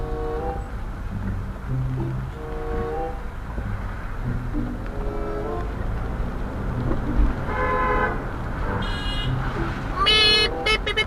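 Car horns honking on a UK road, several short toots and longer blasts over steady traffic and engine noise, with a couple of loud horn bursts near the end.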